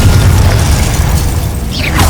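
A Confringo fire-blast spell goes off in the Hogwarts Legacy duel against Charles Rookwood. It comes through as a loud, continuous low-frequency roar and rumble that fills the whole moment, with a brief whooshing sweep near the end.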